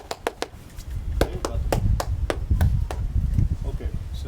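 A few people in a classroom session clap for a presenter, with sparse sharp claps at first then scattered uneven clapping over low voices and room murmur.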